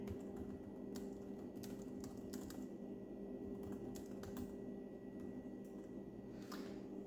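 Fingers type steadily on the light, airy keyboard of a StarBook Horizon laptop, producing soft rapid key clicks in uneven bursts over a constant low electrical hum, with no talking.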